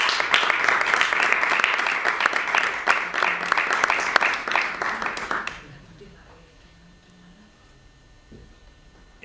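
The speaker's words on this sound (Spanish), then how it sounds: "Para ello, pido un aplauso." Warm, sustained applause fills a conference hall at a talk on Fernando Quiñones in Andalusia, a thick crowd of clapping that carries on for several seconds before stopping abruptly into near silence.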